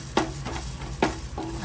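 Coriander seeds being dry-roasted in a pan, with a few soft scraping stirs and a faint, light crackle, close and quiet.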